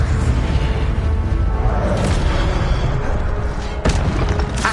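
A fiery Incendio spell bursts with a loud booming whoosh in Hogwarts Legacy, dense and sustained, with a sharp crack near the end.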